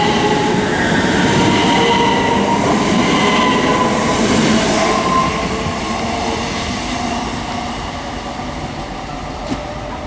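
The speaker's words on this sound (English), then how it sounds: "passing through now, we've got a Virgin Trains Pendolino heading to London Euston" A Virgin Trains Pendolino bound for London Euston passes through Watford Junction on the West Coast Main Line, a loud, sustained rumble and roar of wheels on rail close by, with a faint sharp click near the end.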